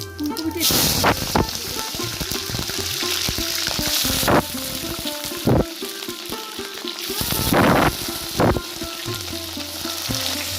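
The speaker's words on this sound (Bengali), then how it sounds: "আমি তেলের মধ্যে একটা শুকনো লঙ্কা ফাটিয়ে দিয়ে দিলাম, আর দিচ্ছি অল্প একটু পাঁচফোড়ন" Dried red chili and panch phoron hit hot oil with loud bursts of sizzling and spattering, swelling and fading in waves with clattering stirs, and no talk over it.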